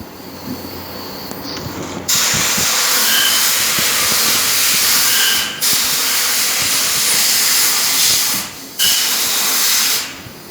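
Glass bead blasting on a motorcycle crankcase makes a loud, close, continuous air hiss that runs in long bursts, cutting off briefly between them.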